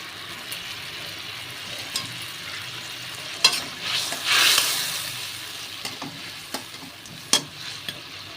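Pieces of rui fish sizzle and get stirred in a pan for a ripe mango rui fish curry: a soft, steady frying hiss broken by a few scraping stirs and one louder splutter near the middle.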